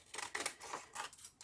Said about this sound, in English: So now I get my scissors,